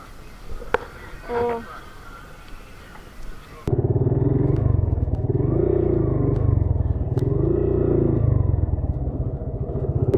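A motorcycle engine catches and settles into a loud, steady running drone on a ride at Kaziranga National Park, preceded by a few brief voices and handling noises.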